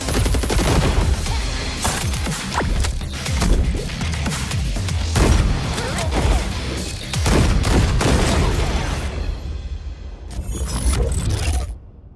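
Gunfire from the FragPunk shooter game trailer: dense volleys of rapid shots and heavy booms, loud and close, with mechanical clatter between bursts and a brief lull near the end.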